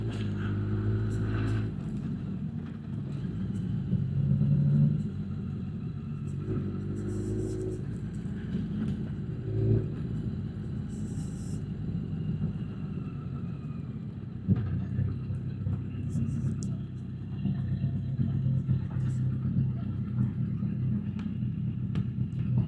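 Motorcycle engines rumble and rev at a summer evening bike night meet at Kemble, a steady low drone of passing and idling bikes with occasional louder revs throughout.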